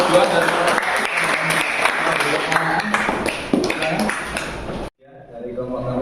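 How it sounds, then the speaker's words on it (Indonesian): Classroom applause for a student group after their history presentation at an Indonesian university teacher-training session, steady clapping from a small audience with a few voices under it, then cutting off abruptly near the end as a speaker begins. "Tepuk tangan untuk kelompok 2"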